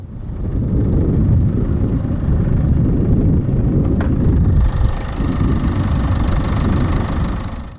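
A 2015 Citroën C4 1.6 BlueHDi turbodiesel inline-4 idles steadily after start-up with a loud, rough low rumble and clattery knock, a brief click midway, continuous and close.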